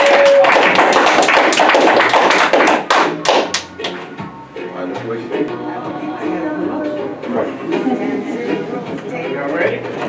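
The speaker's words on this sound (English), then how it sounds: "give yourself a round of applause" A crowd at a live show claps and cheers in a loud, dense burst at first, which thins out into scattered claps and chatter as people talk over it.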